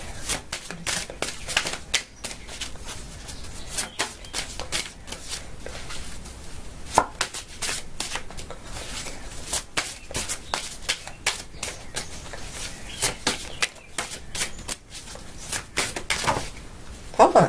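Tarot cards being shuffled by hand produce rapid, crisp riffling clicks in a dense irregular rhythm, close and fairly quiet, continuing throughout with no talk.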